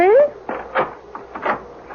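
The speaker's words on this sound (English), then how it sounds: "open this door" A door creaks open in a radio drama, its short rising squeak followed by several dull clunks and shuffles close to the microphone.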